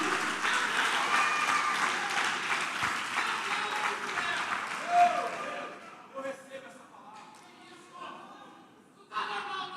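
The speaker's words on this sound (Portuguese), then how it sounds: "dê um aplauso bem forte a Ele" Congregation applauding in a church service, a dense, loud wash of clapping for about six seconds that thins into scattered claps and voices, with a final burst near the end.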